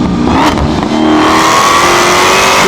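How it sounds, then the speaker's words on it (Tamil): A Dodge Challenger SRT Hellcat engine revs hard and close, a loud throaty burst that rises and holds as a sustained roar with no talk over it. "dot challenger SRT Hellcat"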